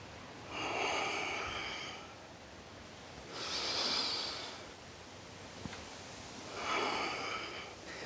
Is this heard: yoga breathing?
yes